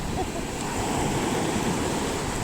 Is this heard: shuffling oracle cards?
no